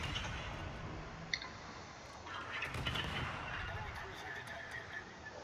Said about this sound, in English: I'm just going to use this island and just lob shells over the top of it